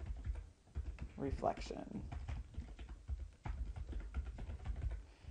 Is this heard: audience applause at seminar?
no